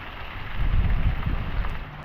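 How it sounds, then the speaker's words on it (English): Heavy rain falls steadily outdoors on a wet autumn day with leaves on the ground, a dense, continuous hiss with low rumbling gusts, fairly close and loud, with no one talking. "Listen to that rain."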